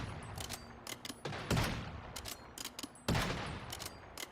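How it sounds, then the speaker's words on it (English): Gunfire in the video game Once Human: repeated short bursts and rapid volleys of shots, close and fairly loud, with brief gaps between clusters and no talking. "Oh, now I'm getting shot from the other side, too."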